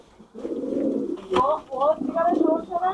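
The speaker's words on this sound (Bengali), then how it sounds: "এই দুইটার বোখারা বলে বোখারা কবুতর" Bokhara pigeons on a fancy pigeon farm coo in low, rolling phrases at close range, with someone speaking over them.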